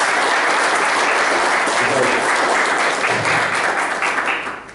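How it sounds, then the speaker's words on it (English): A roomful of people claps steadily at a Jamaican Olympic and lacrosse press conference, dense and sustained, then tapering off near the end. "Give them a big round of applause."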